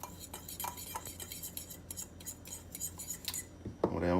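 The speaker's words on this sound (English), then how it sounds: "we're going to use a spoon to mix up our wet marinade" A spoon and fork mix a wet venison jerky marinade in a bowl, making quiet, repeated metallic clinks and taps at an irregular pace.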